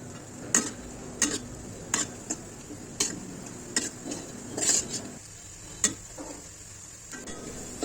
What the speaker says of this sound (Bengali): পেঁয়াজটাকে আমি নাড়া দিয়ে দিচ্ছি।